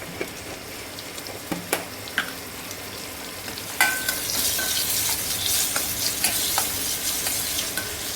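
Cashews and a pinch of asafoetida frying in hot oil for khara pongal, scattered spoon taps at first, then a sudden louder crackling sizzle that keeps going with occasional clicks, close up.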